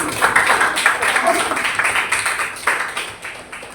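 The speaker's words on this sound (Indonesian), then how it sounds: "Oke, tepuk tangan." A group applauds during a classroom guidance session, a steady dense patter of many hands clapping at once, fairly loud and close throughout before tapering slightly.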